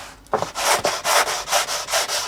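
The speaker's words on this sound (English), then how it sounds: "when I'm sanding the balsa and it's sanding on here" Rhythmic rasping strokes of sandpaper on balsa wood while shaping a model FW190 wing's leading edge, about eight back-and-forth passes in quick, even succession, close and alone.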